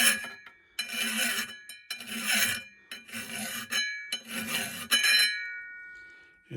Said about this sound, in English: I got a new file here, and I was just gonna try to clean up the impeller a little bit